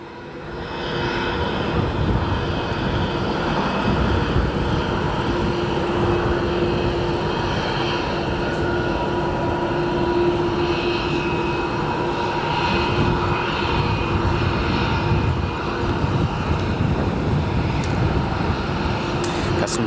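A jet airliner on approach to O'Hare Airport gives a steady, loud engine roar that holds for the whole stretch with a sustained whine on top, wind audible and no talking.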